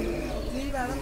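Soft coos of racing pigeons drift beneath a man's speech, against a steady outdoor background at a pigeon race.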